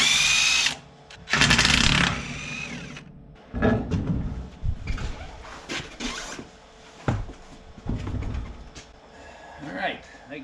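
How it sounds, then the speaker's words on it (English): A power drill bores holes into steel trailer brackets in bursts, the motor whining up and cutting out several times, with shorter clanks and handling noises between runs. "drill some holes and get these mounted."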